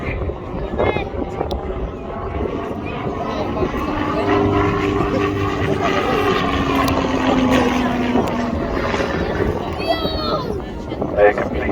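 A Slingsby T-67 Firefly aircraft performing aerobatics at an airshow, its propeller engine droning and rising then falling in pitch as it passes, under a commentator's continuous talk and some wind noise.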